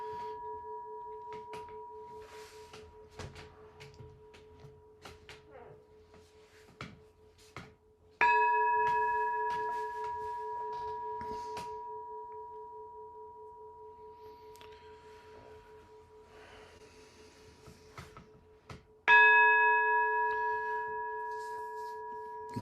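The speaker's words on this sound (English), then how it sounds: "The sound of the temple bell" A temple bell struck twice for meditation, each strike a sudden bright ring that hangs and slowly fades over many seconds, with a steady faint hum and quiet shuffling between strikes.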